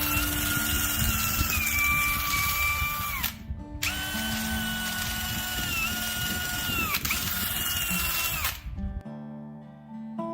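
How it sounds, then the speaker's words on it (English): A power-driven buffing wheel grinds a horse's hoof wall. It makes a loud, whining motor hum with a gritty rasp in three bursts separated by short pauses, then stops. No speech is heard. "I think that buffing wheel works a lot better."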